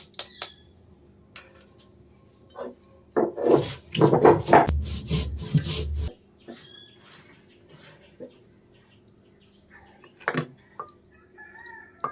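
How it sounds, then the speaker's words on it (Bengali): Coriander and cumin seeds are ground by hand on a grinding stone in a village kitchen, rough rasping strokes in uneven bursts, loudest in the first half, with a rooster or fowl squawking faintly nearby. "ধনে আর জিরেটা পিষে নিচ্ছি প্রথমে"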